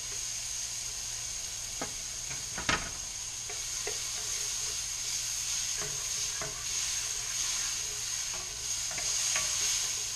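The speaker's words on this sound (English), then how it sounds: "To the mushrooms, we're now going to add the chopped garlic." A spoon stirs chopped garlic through mushrooms frying in a pan for barley soup, with a steady sizzle and hiss broken by a few soft scraping clicks and one sharper knock, all close and moderate in level.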